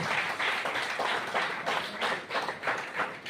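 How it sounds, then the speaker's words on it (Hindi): Applause for a guest at a roadside development event, a steady wash of many hands clapping at moderate volume, with rhythmic surges throughout and no clear voices on top. "मैं चाहता हूं उनके लिए भी जोरदार तालियां हो।"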